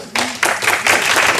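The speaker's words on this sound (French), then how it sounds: "C'est très gentil d'applaudir" A conference audience applauding, a dense burst of many hands clapping that swells and continues steadily, fairly close and loud.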